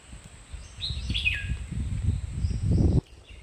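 Several high, whistling bird calls sound from a short distance over a low rustling background with soft footsteps or movement nearby.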